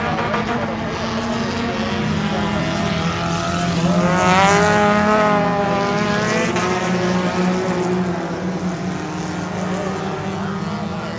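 Race cars passing on an oval racetrack, a sustained engine roar that swells as cars approach and pass around the middle, then fades slightly, heard from the stands without voices.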